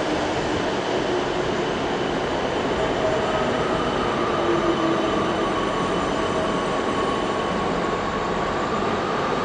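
A South Western Railway train at London Waterloo station gives a loud, continuous rumble of wheels and traction with faint high tonal whines drifting in pitch, steady throughout with no talk.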